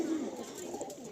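Pigeons cooing in a loft, a short soft low coo rising briefly above quiet room noise.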